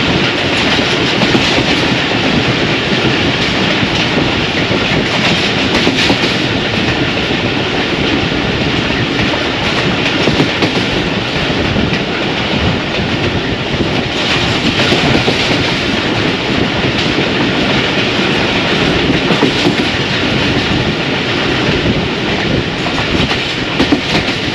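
A passenger train on the Sukkur to Quetta line rolls steadily along, its carriages rumbling with a continuous, loud rhythmic clickety-clack of wheels on rails throughout, with no voices.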